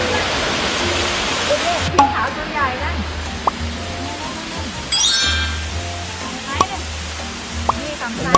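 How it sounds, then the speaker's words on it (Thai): Steady roar of a waterfall inside a large dome at Ubon Ratchathani Zoo fills the scene, with someone talking over it and a few sharp clinks. "ดูน้ำตกกันนะครับไปเลย"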